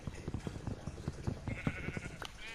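Sheep bleat in the Minecraft game, a thin, wavering cry over a busy run of quick, rhythmic clicking steps and other game noise at steady, moderate volume.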